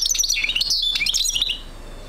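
A goldfinch-canary hybrid songbird chirping close by, a rapid run of bright twittering notes and trills that fades out near the end, with no talking.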